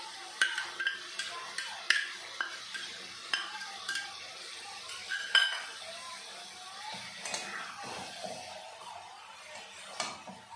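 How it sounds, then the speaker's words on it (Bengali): Ginger and garlic paste stirred into a pan for coriander chicken: repeated scraping strokes of a spoon at an uneven rhythm over a faint, steady sizzle, close by. "দু মিনিট মতো নেড়ে চেড়ে নিয়েছি, এখন দিয়ে দেবো আদা আর রসুন বাটা।"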